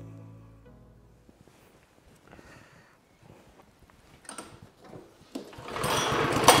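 A Briggs & Stratton small engine, previously hydro-locked with fuel, is cranked over in a shed. Faint, uneven turning noises build until it fires and runs loudly, roaring up near the end.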